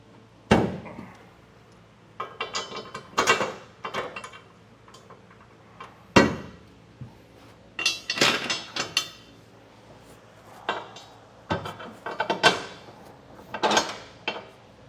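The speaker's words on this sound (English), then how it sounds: "just come back through and drop down all of our carriage bolts through the holes that we drilled" Carriage bolts are dropped one by one through drilled holes in a 2016 Ford F-series truck bed while a B&W Patriot 5th wheel hitch is installed, giving scattered sharp metallic clinks and thuds with gaps between them.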